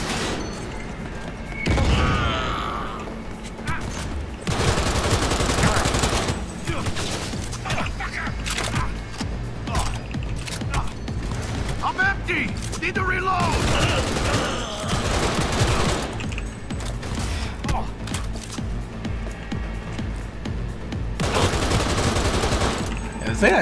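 Sustained heavy gunfire in Cyberpunk 2077, rapid automatic bursts and crashing impacts filling most of the stretch, with occasional speech mixed in.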